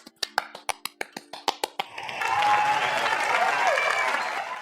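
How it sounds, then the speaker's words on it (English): About a dozen sharp, evenly spaced claps ring out alone, then a loud crowd bursts into sustained applause that swells and holds, with some cheering mixed in. "Give them a round of applause."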